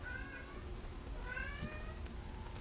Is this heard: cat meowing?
yes